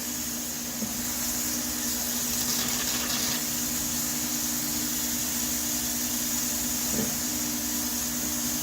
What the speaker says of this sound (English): Let's put some water on it.